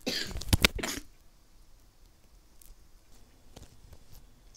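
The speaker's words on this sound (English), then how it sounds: "I really don't want to freaking cough that much" A single harsh cough bursts out at the start, close and loud, followed by near silence with a few faint rustles.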